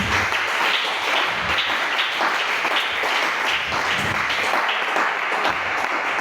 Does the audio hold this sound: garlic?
no